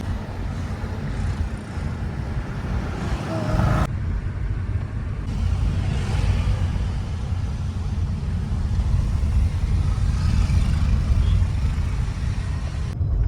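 Road traffic on the way into Pune city near Katraj, heard from inside a moving vehicle as a steady, loud rumble of engines and tyres with wind noise, continuous throughout without talk.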